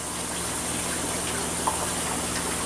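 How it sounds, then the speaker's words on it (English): A kitchen tap runs steadily for hand washing, a constant broad gush of water with a faint splash near the middle and no talking. "Let me wash my hands real quick"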